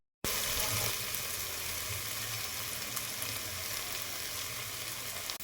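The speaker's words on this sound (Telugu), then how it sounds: "ఈ కాయలు తొందరగానే మగ్గిపోతాయి నూనెలో." Gongura pods (puntikayalu) fry steadily in hot oil with a continuous, dense sizzle that holds evenly from start to finish, close and loud, with no talking over it.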